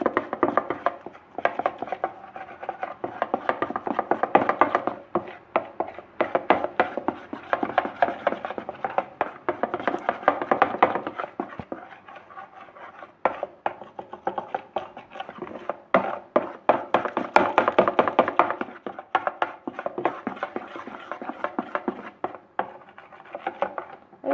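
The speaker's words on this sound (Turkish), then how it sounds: "Bunları şimdi güzelce karıştırıp iyi bir kıvam alması için böyle çırpıyorum arkadaşlar." Crepe batter being whisked by hand in a bowl for a cheese-filled crepe börek, a steady run of quick, dense scraping and tapping strokes that continues throughout with brief slower patches.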